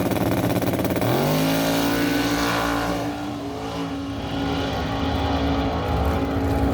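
A Chevrolet Nova drag car launches down the track, a roaring engine that climbs sharply in pitch and then holds a loud, strained drone as it pulls away, dense and close.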